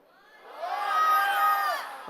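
A church congregation shouts "glory" together in one loud, swelling cry that rises, holds for about a second and fades, with many voices blended into a single roar.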